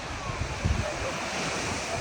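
Sea waves breaking on Bournemouth beach make a broad, continuous roar of surf under heavy wind buffeting on the microphone, with a brief low thump midway.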